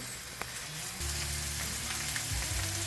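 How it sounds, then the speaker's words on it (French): Steak searing in a hot frying pan, a steady crackling sizzle with scattered pops and a low rumbling undertone, close up and without any talking. "j'ai saisi ma viande un petit peu, fait que j'ai un peu de brunissement sur le top"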